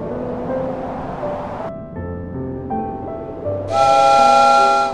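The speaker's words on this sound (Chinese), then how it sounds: "火车的鸣笛比平常悲凄，却比不上阴风怒号。" A steam train whistle in an audio comic sounds a sustained, bright, harmonic-rich tone near the end, following softer layered tonal sounds and a low rumble.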